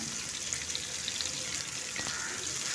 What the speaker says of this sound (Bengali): পেঁয়াজটা তেলের সঙ্গে মিশিয়ে একটু ভেজে নেব